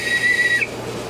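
A whistle sounds one sharp, steady high-pitched blast for about half a second, then cuts off, leaving a faint background hum.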